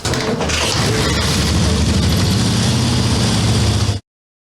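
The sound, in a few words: motorcycle engine starting and running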